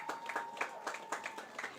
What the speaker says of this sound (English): A massive round of applause for them,